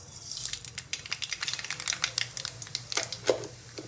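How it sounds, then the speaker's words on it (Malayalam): Mustard seeds spluttering in hot oil in a pan while cooking Kerala-style inji puli curry, with rapid, irregular crackling pops and sizzles bursting close by, loud and alone. "എണ്ണ ചൂടായതിനു ശേഷം കടുക് ഇട്ട് കൊടുക്കുക."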